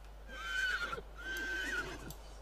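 A horse in The Sims 3 video game whinnies twice, two drawn-out neighs separated by a short pause, heard faintly over a low steady background hum.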